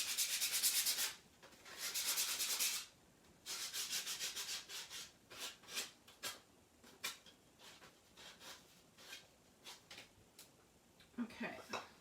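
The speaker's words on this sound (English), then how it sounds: "So we got them pretty much sanded pretty well." Sandpaper rubs over chalk-painted wooden craft houses in quick bursts of close, scratchy strokes, first in steady runs, then in shorter, lighter scrapes with brief pauses between.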